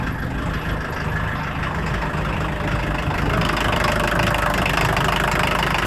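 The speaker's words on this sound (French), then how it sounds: "Regardez comment elle tourne rond la voiture." A 1980 Volkswagen Golf 1 engine idles steadily after starting on the first try, a continuous even rumble with a slight rise in intensity partway through, no voices over it.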